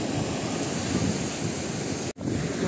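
Sea waves wash onto a Barcelona beach on a rainy autumn day. The surf roars steadily and loudly with wind buffeting the microphone and a brief dropout near the end. No one speaks.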